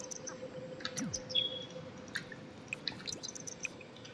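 Plants being watered in The Sims 4 video game: soft drips and splashes over chirpy birdsong and a steady ambient hum, quiet and close.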